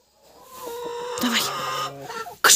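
Chickens clucking close by in a backyard coop, a rooster among the hens, a steady run of clucks building over a couple of seconds with a louder burst at the end.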